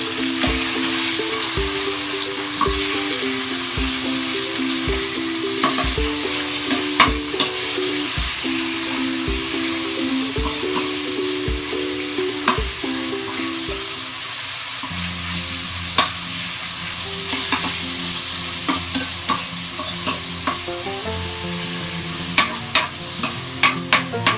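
Rice frying in a pan for chicken adobo with lemongrass, stirred with steady scraping strokes over a continuous sizzle, with sharp clicks of the utensil against the pan; close and fairly loud, no talk.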